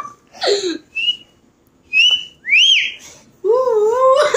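A person whistles a few short, rising and falling notes with brief pauses between them, close and clear, ending in a longer warbling phrase.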